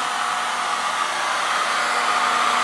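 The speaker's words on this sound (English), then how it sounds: "This is the lowest setting on my hair dryer at home." A hair dryer on its lowest setting blows with a steady, even whoosh, close and loud, with no pauses or talk.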